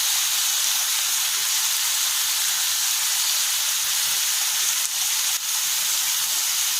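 Onion, capsicum and tomato fry in a pan for a Chinese-style liver stir fry, making a loud, continuous sizzling hiss with two faint clicks near the end and no voices.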